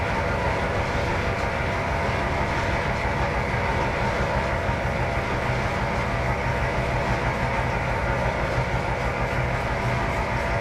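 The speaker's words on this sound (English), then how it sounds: "notch 2 has given me a very satisfactory vroom vroom noise from the engines." Locomotive engines idling up at notch 2 in Trainz 2022, a steady dense diesel drone with a rumbling low end, constant and loud throughout.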